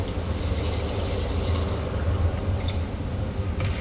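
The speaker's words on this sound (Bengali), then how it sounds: "এরপরে একটু ঝোল দিয়ে দিব।" Broth poured into a pan of jackfruit seeds, crab and prawns, giving a steady, continuous liquid splash and trickle with a low rumble underneath, close and moderately loud, with no talking.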